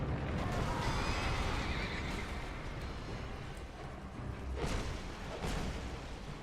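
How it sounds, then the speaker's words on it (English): A horse whinnies in the dark fantasy game Dark Souls 2, a loud neigh with hoof clatter and whooshing combat noise, no talk over it. "Well, I can fight the horse,"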